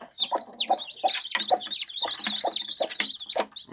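Domestic chickens clucking close by in a quick, continuous series of short calls with some higher squawks, no talking over them.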